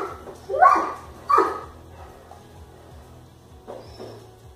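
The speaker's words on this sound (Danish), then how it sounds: "Hvis I kan høre noget om baggrunden, hvilket I nok kan, så er det bare min hund" A pet dog barks in the background indoors, two short loud barks in quick succession followed by a fainter bark a couple of seconds later, over a low hum.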